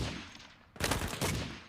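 Sustained burst of DMR rifle fire in the Badlanders shooter game, a dense volley of overlapping shots that starts after a quieter lull and continues loudly to the end, with no talking.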